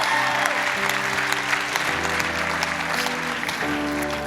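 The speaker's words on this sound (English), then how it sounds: "Give a round of applause." An audience applauds Pastor Erwin McManus after his talk, a dense, steady round of clapping lasting throughout, with sustained musical tones playing underneath.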